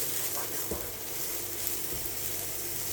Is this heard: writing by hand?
no